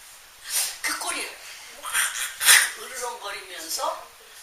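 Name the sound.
voice imitating a dog's growl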